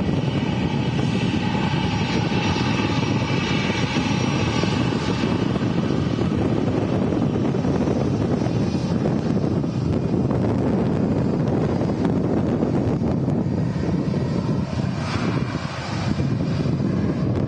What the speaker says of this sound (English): There's another arrival coming in. EasyJet, A319 from Venice.